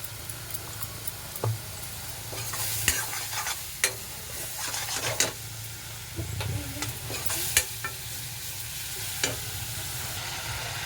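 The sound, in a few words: food frying and being stirred in a pan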